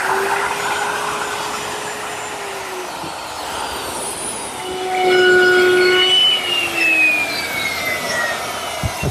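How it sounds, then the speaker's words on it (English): Router fitted with a collar and a 3/8-inch straight bit cutting out a handhole in a chop saw station: a loud whining motor whose pitch sags and shifts as the bit bites into the wood. "I'll cut it out using my router. My router is set up with a collar and a 3/8 inch straight cutting bit"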